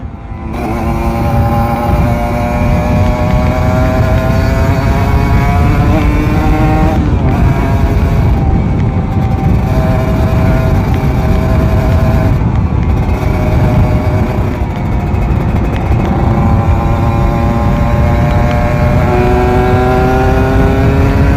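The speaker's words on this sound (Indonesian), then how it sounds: "Sumpah sih ini motor enak banget cuy" A Kawasaki Ninja RR 150 two-stroke motorcycle with a 34 mm carburettor and ported engine revs loudly and continuously, its pitch climbing and falling in repeated sweeps with brief pauses between throttle blips.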